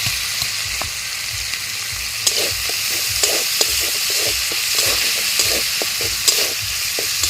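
Green chillies torn in half and spices sizzle steadily in a pan for butter paneer, with the scrape and tap of a spoon stirring at irregular intervals; no one speaks.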